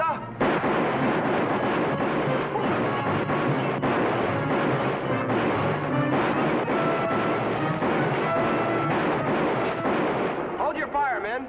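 Dense volleys of gunfire fill a western TV shootout on a riverboat, rapid overlapping shots and bangs crowding together loud and continuous for about ten seconds.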